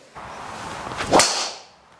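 A swishing rush builds, then a sharp crack as a Callaway Rogue Max LS driver strikes a golf ball, followed by a fading whoosh.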